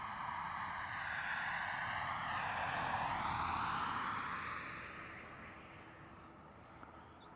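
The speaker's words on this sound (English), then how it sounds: "We have an A330 on taxi." An Airbus A330 taxis at Dublin Airport, its jet engine whine swelling to a broad roar and then easing off as it passes, with steady road traffic rumbling underneath.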